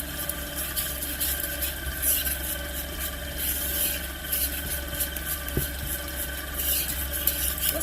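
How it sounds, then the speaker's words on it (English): Gingerbread batter for an old-time Appalachian recipe being mixed in a bowl, a continuous soft rubbing and scraping stir, steady and fairly close, with a faint background hum and no talk. "I'll mix this up."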